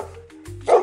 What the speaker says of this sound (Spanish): Este es el sonido que hace el perro.